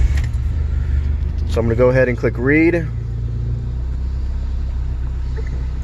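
Car engine running at a steady idle with a low rumble throughout while someone talks briefly over it.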